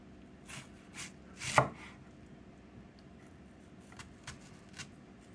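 A knife slices onions thinly on a cutting board, a few quiet separate cuts with one sharper louder stroke, in an otherwise hushed kitchen.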